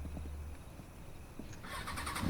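In the Roblox game Bakso Malang Anomalies, a motorcycle engine revs up abruptly after a quiet stretch, a loud, buzzing, pulsing roar close by during the final half-second.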